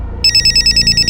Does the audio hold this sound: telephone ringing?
yes